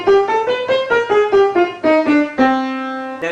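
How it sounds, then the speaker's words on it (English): A single pitched instrument plays a minor scale alone, eight or so evenly paced notes, the final note held and ringing out. "the minor scale sounds like this"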